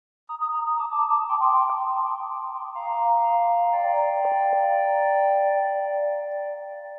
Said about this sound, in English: For the third layer, I used the telephone frequencies, but I added a ton of reverb.